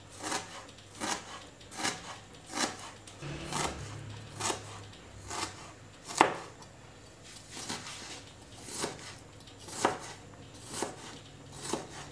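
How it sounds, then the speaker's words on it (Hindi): Steady knife strokes chop a piece of ginger finely on a board, a regular series of sharp, close taps roughly once a second with no talking. "ये एक अदरक का टुकड़ा है, इससे 1 खाने का चम्मच भर के मोटा मोटा अदरक बनेगा। तो इसके पहले बारीक ऐसे कर ले।"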